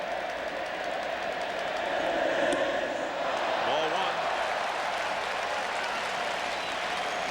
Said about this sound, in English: The crowd all over him right now,